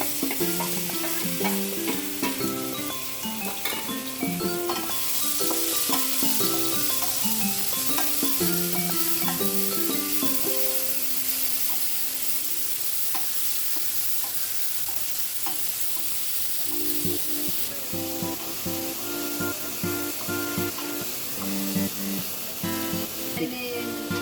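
Paneer badi masala frying in a pan gives a steady, close sizzle with stirring scrapes, continuous throughout with no pauses.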